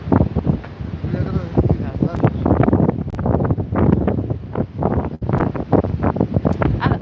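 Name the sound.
strong wind blowing by the port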